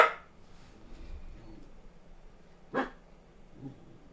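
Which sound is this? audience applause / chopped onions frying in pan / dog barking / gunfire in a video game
dog barking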